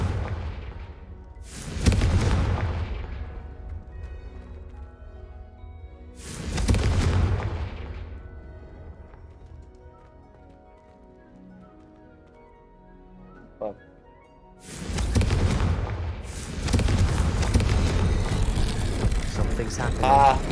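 Confringo spell blasts in Hogwarts Legacy, loud booming explosions in separate bursts with a longer rumbling run near the end, under game ambience.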